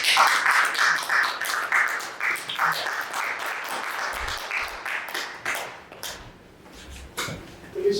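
A lecture audience claps to welcome the speaker before a talk on Hungarian literature, starting as a dense round of applause that thins into scattered claps, taps and small handling noises as it fades.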